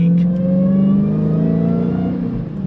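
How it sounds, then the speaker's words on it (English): A 2022 Dodge Challenger Super Stock accelerates hard, its supercharger whine rising steadily in pitch over a strong, close engine roar. "you're getting a lot more supercharger whine and more thrust, that's for sure"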